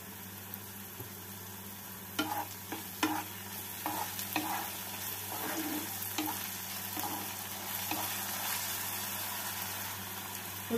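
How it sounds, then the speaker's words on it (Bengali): Chili garlic and red chili sauces being stirred in a pan while making cauliflower manchurian, soft sizzling under a steady background hum with intermittent spatula scrapes and taps, fairly quiet and close. "দিয়ে দিচ্ছি চিলি গার্লিক সস, এক চামচ রেড চিলি সস"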